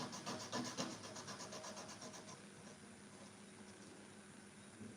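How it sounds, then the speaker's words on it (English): Oil pastel rubbed on sandpaper gives a soft, steady scratchy rasp, close and faint, with a slightly more textured stretch at the start before it settles into an even, quiet scrape with no talk. "I first of all rub in sandpaper so that I get this clean"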